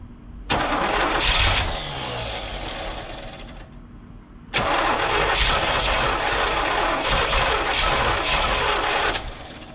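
The engine of a 1985 Chevy Corvette that sat parked for 20 years cranks loudly in two long attempts, catching roughly on only a few cylinders before each cranking stops, with no talking.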